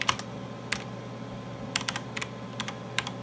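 Keystrokes on an Altair 680 computer keyboard running FLEX, arriving in short irregular bursts of crisp clicks over a steady low electrical hum, fairly close and moderately loud.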